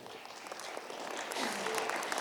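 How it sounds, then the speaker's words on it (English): Audience applause at an athletics nutrition talk, a steady wash of clapping that builds slightly toward the end, moderately distant with no clear speech over it. "I think we need to clap for him"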